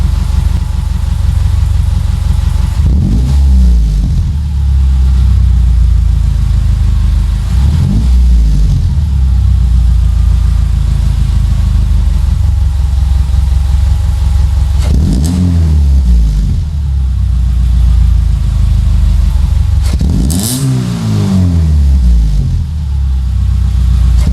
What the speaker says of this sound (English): We'll give you some revs.